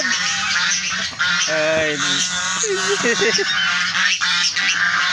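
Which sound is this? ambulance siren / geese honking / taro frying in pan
geese honking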